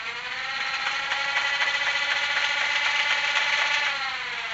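A small electric flywheel motor in a Dart Zone Vulcanator foam blaster whirs continuously at a steady, high-pitched buzz with a faint rattle, close up and alone.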